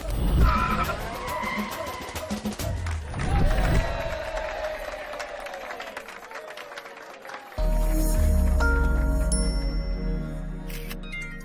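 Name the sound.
car driving off with skidding tires in movie scene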